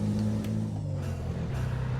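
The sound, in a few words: truck air system gear change, Euro Truck Simulator 2 video game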